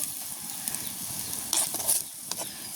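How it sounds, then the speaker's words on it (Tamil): Onions and chilies sizzle in hot oil while tempering a soya meat curry in a village kitchen, a steady close frying hiss with a few louder stirring scrapes partway through. "அடுத்து சோயா மீட்டு கறி வெங்காயம் மிளகாயெல்லாம் போட்டு தாளிச்சாச்சு"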